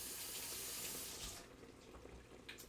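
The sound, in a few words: rinsing an immersion blender under a running tap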